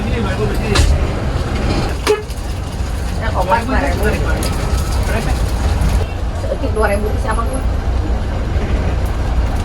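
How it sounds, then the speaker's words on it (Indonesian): An intercity public bus pulls out of a roadside terminal at Pasar Rebo, Jakarta, bound for Cianjur, with a steady loud engine and traffic rumble, a few horn toots and people talking over it. "Tepat pukul 8:18 bus Marita meninggalkan Terminal Bayangan Pasar Rebo."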